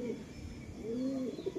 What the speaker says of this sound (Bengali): যে কবুতরটা উড়াবো সেই কবুতরটা তোমাদের দেখাচ্ছি